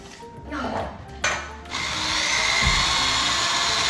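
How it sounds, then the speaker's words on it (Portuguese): An electric drill bores a hole into a wall in a house being redecorated, with short bursts and brief stops before settling into a sustained, loud grinding whir, while a voice murmurs faintly in the background. "Agora eu vou furar."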